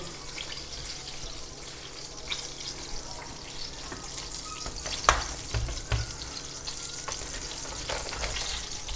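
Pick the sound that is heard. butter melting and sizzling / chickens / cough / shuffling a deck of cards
butter melting and sizzling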